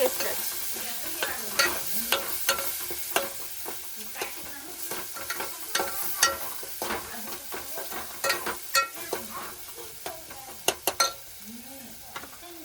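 Spices and green coriander are stirred in a frying pan, with a steady sizzle beneath repeated scraping strokes of a spoon against the pan, close and fairly loud, with no talk.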